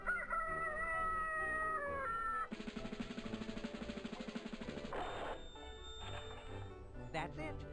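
A cartoonish rooster crows from a high-tech alarm clock in the Spy Fox video game, followed by bright electronic beeping and a musical jingle.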